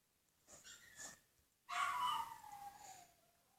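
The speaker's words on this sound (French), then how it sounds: "Avec le chien qui hurle à la mort" Dog in the video game Survivorcraft, two short yelps followed by a long, drawn-out howl that fades gradually, faint and heard alone.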